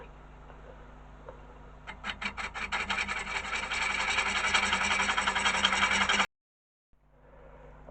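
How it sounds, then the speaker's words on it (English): A woodturning tool cuts a dovetail into a yew bowl on the lathe, giving a steady, loud rasping scrape that starts with a few rhythmic bursts and then runs continuously for about four seconds before stopping abruptly. "So I'm going to go in and create the dovetail there so it'll fit on the jaws."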